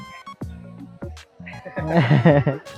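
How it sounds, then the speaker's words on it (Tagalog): A chicken clucks close by in a few short, separate calls, and people's voices join in toward the end. "Wanna say hi to the chicken?"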